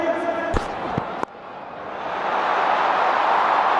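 At the RCB vs PBKS cricket final, the stadium crowd swells into a broad, building roar after a couple of sharp knocks, growing louder and steadier toward the end.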